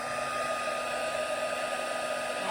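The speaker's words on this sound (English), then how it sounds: "We're going to use a heat tool now to heat the embossing powder." A craft heat tool blows a steady, loud whirring hiss of hot air to melt embossing powder, with an even, unbroken drone throughout.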